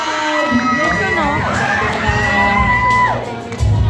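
Crowd cheering and whooping at a movie premiere as a cast member is called up, with loud shouts and high whistles rising over steady applause-like din throughout.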